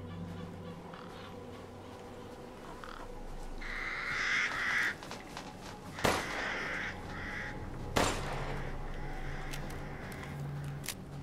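Crows caw in the video game Resident Evil 8, a few harsh calls repeating over a steady low ambient game drone, with two sharp loud bangs like gunshots cutting through near the middle and later.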